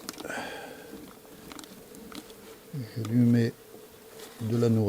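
Honeybees from a weak colony buzz in an open Warré hive during an inspection, a steady close insect hum with louder bursts of wing noise near the end.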